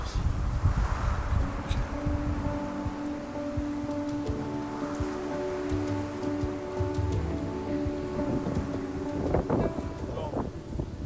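Strong midday wind buffeting the microphone outdoors on public land in high mountain country, a steady roaring rumble throughout, close and loud, with someone talking over it.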